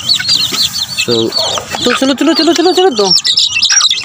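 Small chicks peep and cluck loudly and busily during feeding in a little backyard chicken pen, their chirps overlapping almost without pause while someone speaks briefly.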